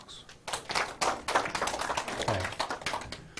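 Scattered audience clapping at a Korean farming lecture on culturing soil microbes with leaf mold and potatoes, a brief burst of claps from a small group, fairly close and uneven in rhythm, with no talk over it.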